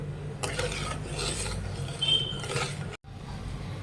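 A spoon scrapes and stirs a thickening milk-powder kalakand barfi mixture in a pan, a close rasping rub in short strokes with a brief pause, no talking.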